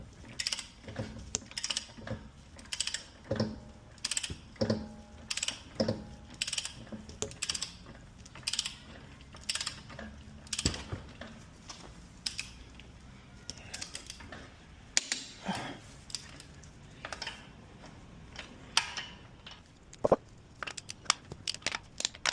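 A torque wrench tightening lug nuts on a Subaru WRX STI wheel at home after fitting wheel spacers, giving repeated close ratcheting clicks and metallic cranking in uneven bursts with brief pauses.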